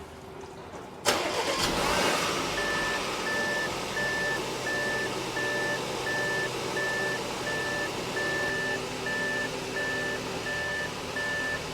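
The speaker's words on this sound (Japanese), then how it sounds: "エンジンかけます。" An Audi with a longitudinal wet-clutch S tronic gearbox starts up in a workshop during a gearbox oil change: a sharp crank and catch, then a steady mid-pitched idle running for about ten seconds alongside a regular electronic beeping.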